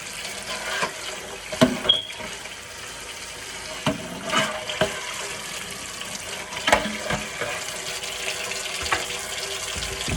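Tap water runs into a kitchen sink while dishes are rinsed, a steady splashing stream with a few clinks and knocks of dishware rising over it throughout.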